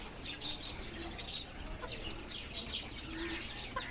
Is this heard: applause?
no